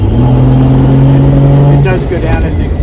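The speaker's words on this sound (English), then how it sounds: "get the car down to about 30, and I gun it" 1966 Dodge Dart GT accelerating hard with throttle kickdown, a loud interior engine drone that climbs in pitch before the transmission shifts down, with someone talking over it.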